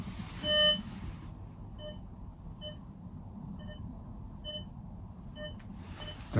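A Tarsacci MDT 8000 metal detector sounds a regular series of short, clear beeps on a target, about one each second, over a low background hum.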